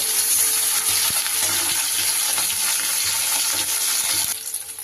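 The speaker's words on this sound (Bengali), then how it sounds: "মাছগুলোকে এইভাবে আমি উল্টো পাল্টে ভেজে নিলাম" Fresh rohu fish pieces fry in oil with a dense, close sizzle and scattered clinks from turning the pieces, easing off slightly at the end; no speech.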